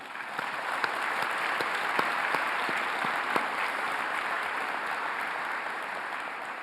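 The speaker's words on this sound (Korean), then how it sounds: "함께 박수 한번 드리겠습니다." An audience at a Korean War anniversary ceremony applauds war veterans and their families: steady, even clapping of moderate loudness with a few sharper claps standing out, sustained throughout without speech.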